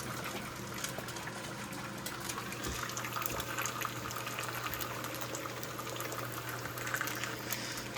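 Eggs frying in a hot pan, a steady close sizzle and crackle of hot oil running throughout without talk.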